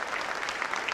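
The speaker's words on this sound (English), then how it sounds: "let's give a last round of applause to everyone" Audience applause for young school performers at a Class 2 school theatre show, a steady dense wash of clapping filling the whole moment without pause.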